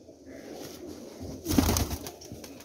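Pigeons coo softly nearby over a quiet background, with a louder burst of cooing and rustling in the middle and no talk.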